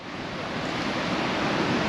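Steady sea waves washing into a small bay on Nusa Penida, a broad continuous wash of surf heard close and fairly loud with no voices.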